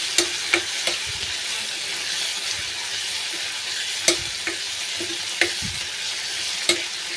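Chopped onions and tomatoes with salt frying in a kadai for a dal dish, a steady hiss of sizzling broken by several sharp scrapes and knocks of a stirring spoon against the pan.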